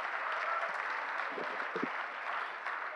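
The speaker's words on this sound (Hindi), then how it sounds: "तालियां पीछे वाले कम बजा रहे हैं साहब।" Audience applause at a Hindi comedy poetry show, a steady, fairly loud clatter of clapping from a crowd with a few faint voices beneath, sustained throughout.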